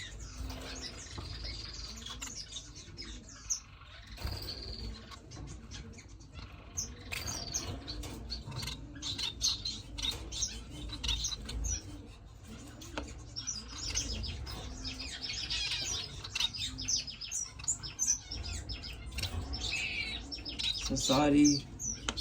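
Finches in an indoor bird room chirping continuously, a busy chorus of small high tweets and calls, with soft wing flutters and light patter throughout, fairly close and moderate in level.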